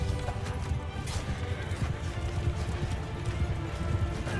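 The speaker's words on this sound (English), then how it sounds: "just hundreds of enemy cavalry charging" Hundreds of cavalry horses charge in a Mount & Blade Bannerlord battle, a dense, continuous drumming of hooves at moderate level with scattered clashes and no talk.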